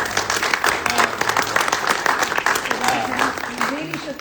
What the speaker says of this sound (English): We can definitely give her a round of applause